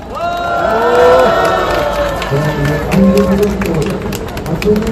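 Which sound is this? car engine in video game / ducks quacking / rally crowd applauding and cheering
rally crowd applauding and cheering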